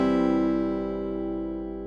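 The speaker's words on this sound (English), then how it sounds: "This is the sound of my guitar." Sustained guitar chord rings out alone, a rich stack of steady harmonics slowly decaying over about two seconds, close and clear with no voices.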